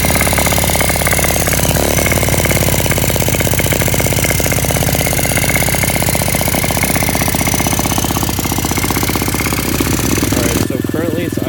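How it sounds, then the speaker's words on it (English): A pit bike engine idles high and steady, a loud, continuous buzzing rattle close by that runs almost unbroken before cutting off abruptly just before the end. "Currently it's idling kind of high"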